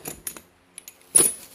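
A set of metal keys jangles in a few short bright clinking bursts, close and crisp with brief silences between, the last shake the loudest.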